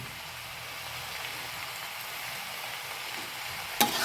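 Coriander powder and chilli spices fry in a pan as they are mixed in, giving a soft, steady sizzle with faint scraping and a single sharp clink near the end, with no talk.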